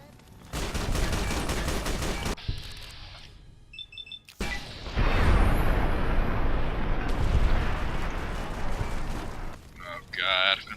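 Gunfire in the game Fallout: New Vegas, long dense bursts of rapid shots and blasts, loud and close, broken by short quiet gaps.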